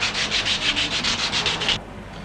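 Sandpaper rubbed over wood while shaping a handmade guitar: about a dozen rapid, even back-and-forth strokes, loud and close, that stop abruptly, leaving quiet room tone.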